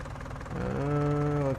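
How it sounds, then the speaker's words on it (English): A tractor engine idles and revs in Farming Simulator 19 while chopping haylage and silage, a low droning hum that rises and steadies into a harmonic tone before cutting off abruptly. "Trying not to run into that tractor."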